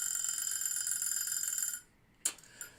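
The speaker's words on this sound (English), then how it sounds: "we'll just set off the alarm to have the auditory sound effect" A bright electronic alarm rings loudly and continuously for nearly two seconds, then cuts off, followed by a short clack and a faint knock in the quiet.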